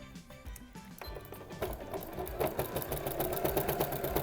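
Sewing machine running steadily while a jelly roll and wadding roll are pushed through to stitch a rug, a continuous close mechanical whirr that starts quieter and builds to a dense, even hum.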